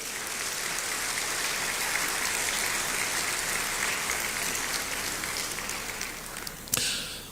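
Large audience at a Ghana citizenship ceremony for the African diaspora applauding steadily for several seconds, a dense even roar of many hands that swells slightly and ends with a sharp knock near the close.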